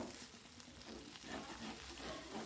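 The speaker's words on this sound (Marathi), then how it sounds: "परत भाजी आपल्याला हलवून घ्यायची, छान मिक्स करून घ्यायची सर्व." Okra stir-fry (bhendi bhaji) being stirred in a pan, with a faint, soft sizzle and light scraping that shifts in small bursts, quiet and close.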